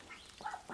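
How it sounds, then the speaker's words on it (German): Ducks in a garden give a couple of short, soft quacks, faint and close together, the second slightly louder. "Die Enten."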